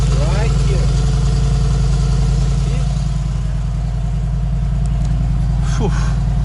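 A 2019 Mercedes-AMG G63 idling right after starting, its exhaust giving a loud, deep, steady burble close by, while people talk over it.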